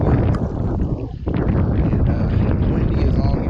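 Strong wind buffets the microphone on a riverbank during evening bank fishing, a loud continuous rumbling roar with gusts, while someone talks underneath.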